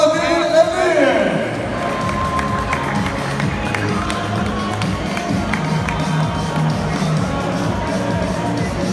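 A crowd at a boxing match between Turkey and Azerbaijan cheers and claps in a steady, loud roar, while an announcer speaks over the noise.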